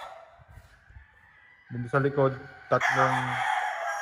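Backyard range gamecock roosters, broodstags among them, crow loudly in two overlapping bursts close by, with someone speaking briefly beforehand.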